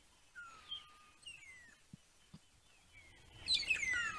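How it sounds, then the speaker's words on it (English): Several birds chirp and call in short sliding notes at sunrise, fairly faint, with a busier cluster of tweets at the end. "Lots of birds making noises and moving around and, you know, and calling."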